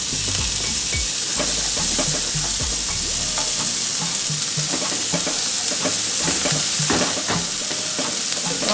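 Mixed vegetables hit the pan for shrimp fried rice and sizzle loudly, with a steady hiss broken by scraping and clacks as they are stirred, up close, with no speech.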